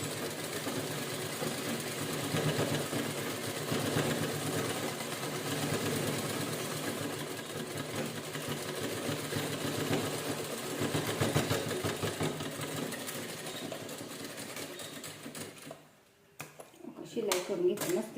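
A sewing machine runs steadily while stitching an old towel for a kitchen hand towel, a continuous mechanical whir lasting most of the stretch before a brief pause and restart, with a voice talking over it.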